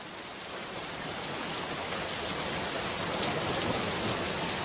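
Steady rain pours down in an animated folk story, a continuous broadband hiss that swells slightly louder toward the end, with no voices over it.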